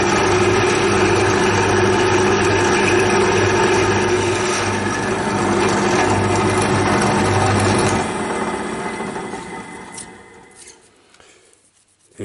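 A center drill cutting into metal on a scale model shaper runs steadily as a loud, continuous mechanical whir for about eight seconds, then winds down and fades to near silence.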